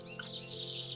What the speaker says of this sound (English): A flock of budgies quickly flies by,